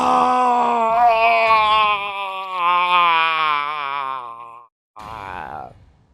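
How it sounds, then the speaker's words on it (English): A long, loud, wavering scream from a character in the Phoenix Wright: Ace Attorney courtroom game, held for several seconds, then a brief break and a shorter second cry. "That scream. I've heard that scream before."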